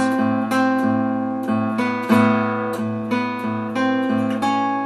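Acoustic guitar brushing pairs of notes from a song in a steady rhythm, each strum ringing briefly before the next, close and clear with no talking.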